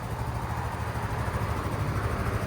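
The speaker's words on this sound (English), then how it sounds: "this is the loudness you're gonna expect on a scooter" A scooter engine idles quietly and steadily nearby, a low, even hum with no revving.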